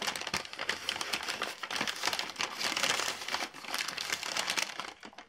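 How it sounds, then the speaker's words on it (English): A plastic bag of Sculpey polymer clay is opened and handled, giving dense, close crinkling and crackling that continues in irregular bursts without speech. "excuse the crinkling"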